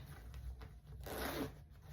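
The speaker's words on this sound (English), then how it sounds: "the back wall has a zip pocket" Zipper on the back-wall zip pocket of a Coach Tatum Whiplash tote bag, heard as a single short quiet zip pull with faint rubbing before it, alone without talk.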